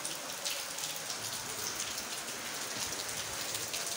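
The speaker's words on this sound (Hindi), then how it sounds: "देखें बड़ी तेज बारिश हो रही है" Steady heavy rain pours down in Allahabad, a dense continuous hiss of drops striking surfaces nearby, with no voices.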